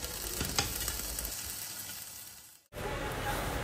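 Beef sizzles and fries steadily in a hot pan for Burmese noodles, with a brief scrape or stir, a momentary drop to near silence, then the loud frying resumes.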